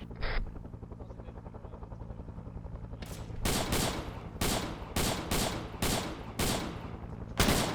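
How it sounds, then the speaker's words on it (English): Airburst rounds fired in Arma 3 from a vehicle weapon at a deliberate rate, a series of about seven heavy, evenly spaced booming shots over a low engine hum, loud and close. "Switching to my 5 airburst rounds."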